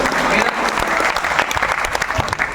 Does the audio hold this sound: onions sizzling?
no